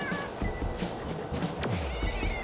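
A robot cat in the Hi-Fi Rush video game meows in short synthetic bursts amid busy game music and effects, with a sweeping tone near the end.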